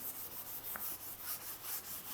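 A soft, steady back-and-forth rubbing, a pad scrubbing across wooden weatherboards being stripped in an even rhythm, close and fairly quiet.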